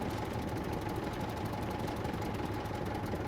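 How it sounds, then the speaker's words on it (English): A tractor engine in the survival video game SCUM chugs at a steady low idle, a dense rumbling drone with fast regular knocking pulses and no pauses. "We'll leave our tractor right here on the outside."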